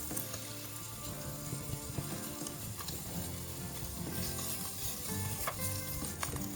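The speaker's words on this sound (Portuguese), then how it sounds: "Já começou a dourar, eu já posso virar essas carnes" Beef chunks searing in a hot pan with a sprig of thyme for beef stroganoff, a loud, continuous crackling sizzle with dense sputtering pops throughout and no talking.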